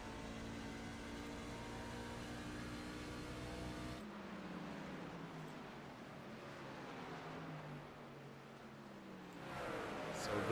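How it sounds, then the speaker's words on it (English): Race trucks roar around a speedway during a Scrambler Series playoff race, a steady loud engine drone with shifting pitch as gears change, continuous throughout with a brief swell near the end. "you can hear shifting both ends of the speedway"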